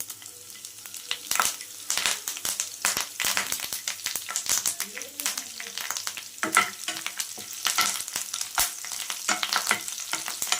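Two sliced green chillies and curry leaves crackle and sizzle in hot oil for a mutton chukka, with a steady close spatter broken by frequent sharp pops and clatters of a spoon against the pan.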